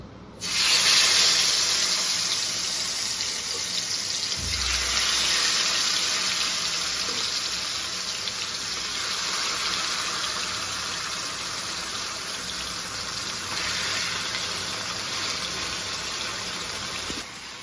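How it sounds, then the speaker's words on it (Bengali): Marinated, spice-coated fish frying in hot oil gives a steady bright hiss and sizzle, loud at first and then settling into a continuous even crackle with no voices. "10 মিনিট ম্যারিনেট করে রেখেছিলাম মশলা দিয়ে, ভেজে নেব।"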